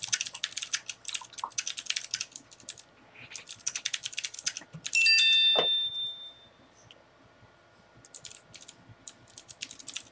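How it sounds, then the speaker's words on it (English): Bursts of rapid keystrokes on a computer keyboard, close and clear, broken by pauses and a short electronic chime in the middle before typing resumes; no one speaks. "You're still typing."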